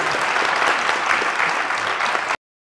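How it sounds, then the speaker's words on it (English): An audience breaks into loud, dense applause at the close of an entrepreneurship talk, sustained and even throughout before cutting off abruptly into silence. "Let's give Erin a round of applause."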